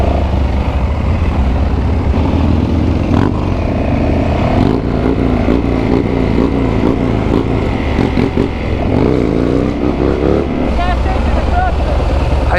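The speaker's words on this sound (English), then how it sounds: "You're on a dirt bike, we'll follow you." A dirt bike engine drones steadily and loud throughout, rising in pitch under acceleration, with people talking over it and wind noise from riding along.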